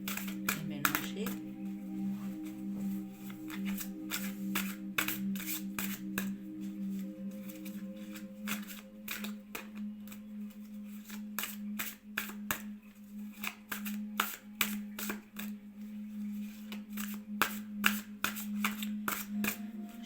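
Playing cards are shuffled by hand in a long run of quick, crisp riffles and flicks over a steady low hum, with no talking.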